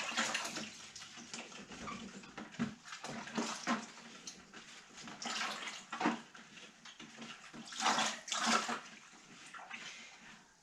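Water running from a tap into a bucket, a fluctuating splashing rush that swells and dips irregularly, close but fairly quiet, with no voices over it.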